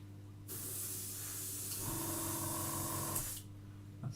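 An airbrush lays a first coat of paint on a scale model, a steady close hiss that starts abruptly, runs for about three seconds over a motor hum and cuts off.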